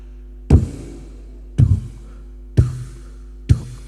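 A preacher at a village religious gathering mimics a heartbeat with his voice, giving four low, thumping beats spaced about a second apart, each a short punchy thud with no talk in between.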